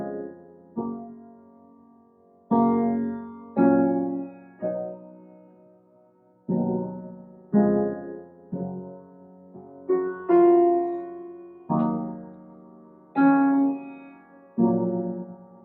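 A piano plays the chorus of a song as a series of slow, struck chords. Each chord rings and fades before the next, in a clear, unhurried rhythm, with no talking.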